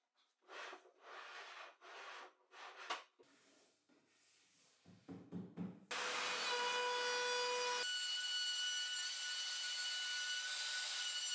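A handheld router cuts a groove in a wooden workbench top: first a series of short rasping scraping bursts, then a sudden loud, steady high-pitched motor whine that holds continuously to the end.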